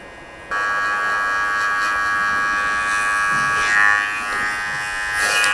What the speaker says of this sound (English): I'm just going to use the zero on the clipper first. Start making that zero line going around.